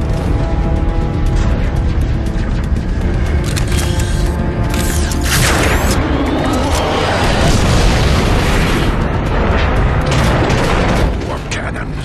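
Heavy warp cannon blasts in Transformers: Fall of Cybertron, a continuous barrage of deep booms and rumbling explosions with mechanical clanking, loud throughout and layered with game effects.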